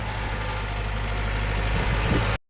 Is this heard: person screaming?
no